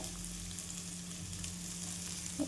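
Onion hitting hot oil in a home kitchen for green chilli chutney gives a steady, fairly quiet sizzle with a low hum beneath it and a brief sharper pop near the end, with no voices.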